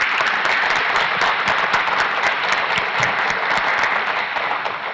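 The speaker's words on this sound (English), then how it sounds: "Can we give another round of applause to our amazing panelists tonight?" Sustained audience applause for a panel at an evening talk on Palestine, dense and steady hand clapping from a full room that holds for several seconds before easing slightly at the end.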